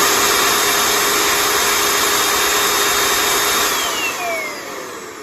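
A newly replaced central vacuum motor runs, a loud steady high whine close by that holds constant before its pitch slides and the roar eases slightly near the end.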